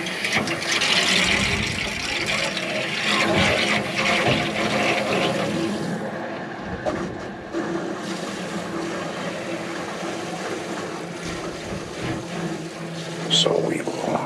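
Water rushing and hissing steadily into a newly installed Triangle Tube indirect water heater tank, a continuous broadband flow that eases slightly partway through, with voices in the room.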